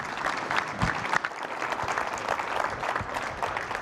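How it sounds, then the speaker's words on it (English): A community workshop audience in Cleveland gives themselves a round of applause: sustained, fairly dense clapping from many hands filling the room at a steady level throughout. "Give yourselves a round of applause"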